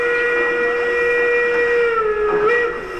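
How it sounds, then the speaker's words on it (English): A large-scale model train sound system plays a loud, sustained steam whistle, a steady tonal blast with hiss that holds for about three seconds before trailing off. "And when we switch on again, the steam whistle"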